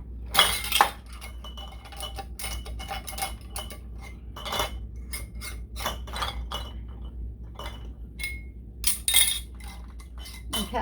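Glass canning jars clink and rattle with metal lids as they are filled with French onion soup, a run of sharp, close knocks and chinks in irregular bursts with no talking.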